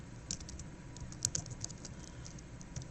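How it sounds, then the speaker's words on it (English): Quiet, rapid keystrokes on a computer keyboard tap out an irregular run of clicks, close and faint, with no one speaking. "So we can just type in here settlement of estate of Thomas"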